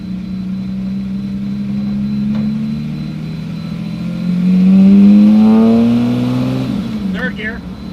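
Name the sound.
Lamborghini engine accelerating in second gear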